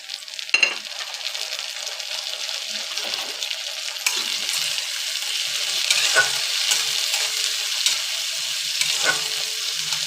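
Chopped tomatoes frying in a pan, a steady hiss of sizzling oil with occasional stirring scrapes and a brief clatter near the start, close and continuous, no talking.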